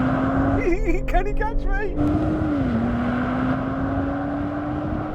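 A BMW M340i accelerating hard in a drag race against an Audi RS4, a steady loud engine drone with a rising then shifting pitch, heard from inside the car while a person talks over it.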